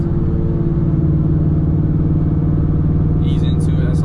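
A Ford F-150 with a 5.4 engine and true dual exhaust rumbles steadily while driving at about 2,400 RPM, a low continuous drone mixed with road noise under the cabin. No voice talks over it.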